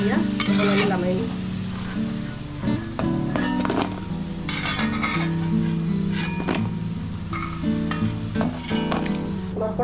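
Something frying lightly in a hot pan while being stirred, a loud continuous sizzle with frequent scraping and clinking of a utensil against the metal, busy and close.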